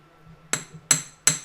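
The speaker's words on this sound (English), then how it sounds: "So I'm going to take my crosshead hammer again" A crosshead hammer strikes metal three times in an even rhythm, each blow a sharp, bright, ringing clink as a bark-like texture is hammered into a leaf necklace piece.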